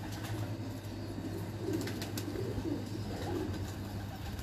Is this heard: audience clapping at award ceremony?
no